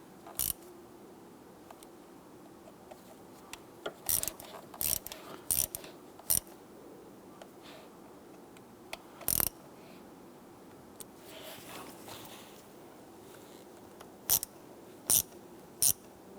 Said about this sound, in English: you want to come on in with your hand ratchet here, and we just want to go ahead and gently snug them